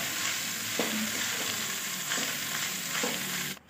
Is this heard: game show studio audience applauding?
no